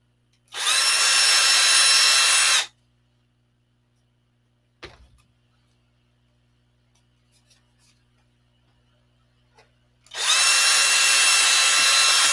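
An electric drill whirs loudly in two bursts of a couple of seconds each, separated by a quiet stretch with a brief knock and faint handling sounds.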